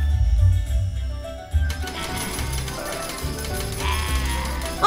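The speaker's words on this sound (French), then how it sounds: "Il pleut des pièces d'or?" Gold coins raining down in a cartoon scene, a steady scatter of light metallic clinks and jingles over a soft musical bed, fairly quiet throughout.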